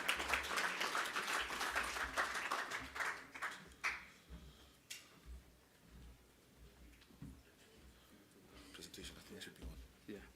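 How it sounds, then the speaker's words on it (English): Audience applause at a biomass industry conference, a burst of clapping that fades within a few seconds, followed by quieter room noise with someone speaking over a microphone. "Round of applause for him"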